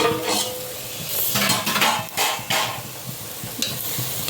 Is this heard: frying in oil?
yes